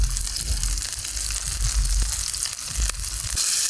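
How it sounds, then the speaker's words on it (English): Food sizzling and frying in a pot over an outdoor camping fire, a steady loud hiss with crackles and pops throughout and no talking. "so just make this one fry a bit"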